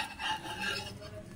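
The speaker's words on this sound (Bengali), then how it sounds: "এই যে হ্যান্ড বিটারটা এখানে চাপ দেবেন, এই যে এটা এরকম হবে।" A hand beater whisks in a bowl while making chicken tacos, giving a steady scraping, rubbing whir that holds at a fairly constant level for just over a second with no voices.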